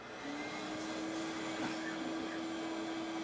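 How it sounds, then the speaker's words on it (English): A shop vac runs steadily during radon mitigation testing in a house, producing a constant airy whine with a sustained tonal hum, moderately quiet and unbroken throughout. "now if we turn the shop vac on, Chris, if you turn that on for us."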